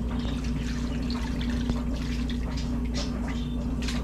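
Water mixed with salt and a splash of vinegar is poured over raw fish while making caldo, a close steady splashing pour over a constant low hum, with no speech.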